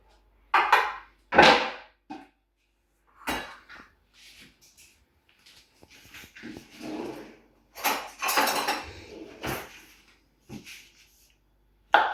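Intermittent scraping and cutting sounds of a knife cutting stems off mushrooms against a board, scattered irregularly with quiet gaps between strokes.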